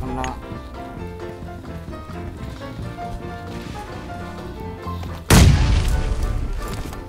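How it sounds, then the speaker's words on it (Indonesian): A bomb goes off in PUBG Mobile with a sudden loud boom partway through, leaving a roaring decay behind it, while game music and sounds keep running throughout. "Ya Allah, kena bom."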